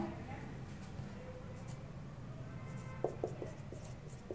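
Marker strokes squeak and scratch on a board during a physics lesson on motion graphs, a few short quick strokes near the end under a teacher's steady talk.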